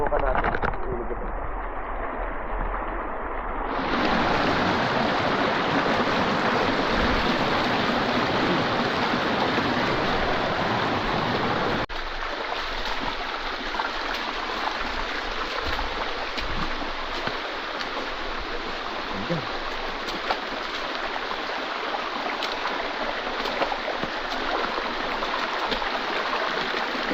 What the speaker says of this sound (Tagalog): Ilog ito.